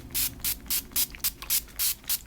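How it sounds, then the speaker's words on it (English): Spray bottle misting water onto Yupo paper, eight short even hissing pumps in a quick steady rhythm, close and fairly quiet. "But first I'm going to spray it with some water."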